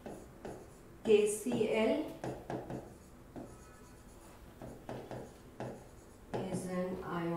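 Marker or chalk scratches on a board during a Class 12 chemistry lesson, repeated short strokes at close range, intermittently under a teacher's talking voice.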